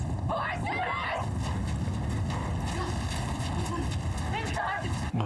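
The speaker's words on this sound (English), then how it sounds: "Hey, horses! Horses!" Galloping horses from a cavalry charge pound continuously under loud, excited voices, the hoofbeats blending into a dense rumble with a whinny breaking through.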